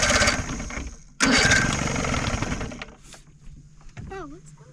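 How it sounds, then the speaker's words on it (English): Boat engine with engine problems, a rough, uneven running roar that cuts out briefly, restarts loudly, then fades to a sputtering low idle with a faint whistle at the end. "Having a little bit of engine problems right now"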